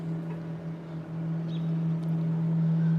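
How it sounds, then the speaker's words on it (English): A steady low engine drone of a duck hunters' boat motor going down a river hums continuously, moderately distant, growing slightly louder, with faint outdoor ambience. "We got a boat going down the river already."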